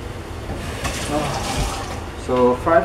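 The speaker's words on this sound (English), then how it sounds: "Drain the water from the frozen chicken." Water runs and splashes in a kitchen sink as it drains off frozen chicken, a close, steady trickle that grows louder near the end, with speech partly over it.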